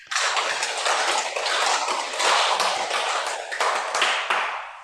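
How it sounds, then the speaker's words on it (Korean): A group of Dahn World members at a lecture held over Zoom clapping together: dense, lively clapping that starts abruptly and carries on for several seconds before tapering off at the end. "박수 한번 치겠습니다."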